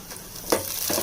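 Onions frying in a pan: a close hissing sizzle with a sharper stir or toss midway and another near the end.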